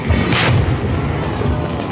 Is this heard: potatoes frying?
no